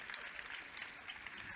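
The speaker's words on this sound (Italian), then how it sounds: "vogliamo sentire l'applauso del pubblico per Chiara?" Faint, distant audience applause for the singer Chiara at an outdoor summer singing competition in Acquaviva delle Fonti, a soft steady patter of many hands clapping.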